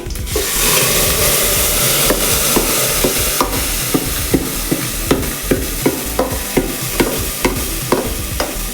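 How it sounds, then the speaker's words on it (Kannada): Ground masala paste frying with garlic in a pan for a Karnataka-style bassaru, a loud dense sizzle with regular scraping and tapping strokes of a spoon, steady and close throughout. "ಇವಾಗ ರುಬ್ಬಿಟ್ಕೊಂಡಿರೋಂಥ ಮಸಾಲೆ ಹಾಕೋತಾ ಇದ್ದೀನಿ"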